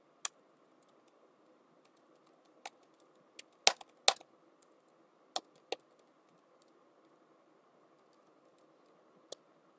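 Keys clack on a computer keyboard as Python code is entered, sparse individual taps with a quick cluster in the middle and long quiet gaps between, close and crisp over a faint steady hum.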